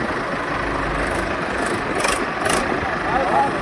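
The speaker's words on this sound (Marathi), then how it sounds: "या दादानं ट्रॅक्टर पुढे घेऊन चाकाखालचं लिंबू फोडलं." A new Mahindra 605 tractor's engine runs with a steady, loud, close diesel rumble throughout.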